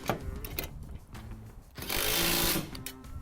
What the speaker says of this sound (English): going to the roll bar and tightening up the mounting bolts, which secures the rear panel to the roll bar